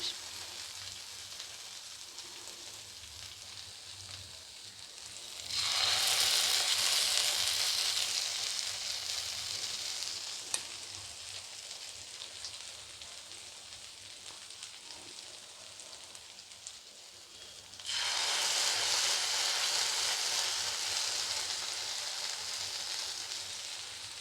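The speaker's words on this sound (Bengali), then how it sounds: "একটু কিন্তু খুব আস্তে আস্তে এটা ভাজতে হবে।" Potato and sesame fritters frying in oil in a pan over low heat, a steady soft crackle that swells into two louder bursts of dense sizzling, with no talking.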